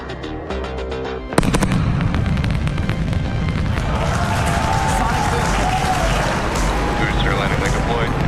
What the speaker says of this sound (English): a brief look at how these sonic booms look and sound on Falcon